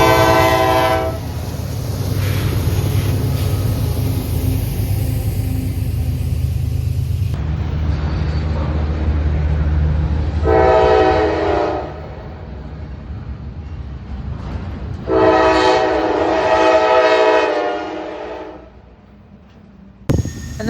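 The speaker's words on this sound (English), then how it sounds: "we would see one, and sadly 2 more trains technically" Train rolling past near Altoona, Pennsylvania, its horn sounding in three loud, harmonically rich blasts over a continuous low rumble of wheels and cars; the rumble fades near the end, with no talk.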